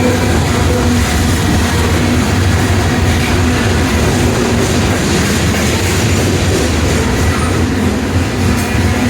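A train crosses a trestle in Prince, West Virginia, close by, loud and steady throughout, with a continuous rolling clatter of wheels and no voices.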